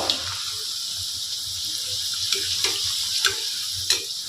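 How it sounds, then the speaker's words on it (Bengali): Naan puri deep-frying in hot oil with a steady close sizzle, broken by a few sharp clicks from a utensil and no speech. "বেলে রাখা নানপুরিটা আমি তেলের মধ্যে দিয়ে দেব। এভাবে চারিদিক থেকে আমি তেল দিয়ে দিয়ে ভেজে নেব।"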